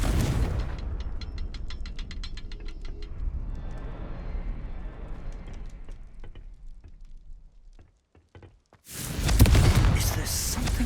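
Confringo blasting spell explosion in Hogwarts Legacy, a booming blast with crackling debris and rattling that fades over several seconds, then a short silence before another loud burst of impacts at the end.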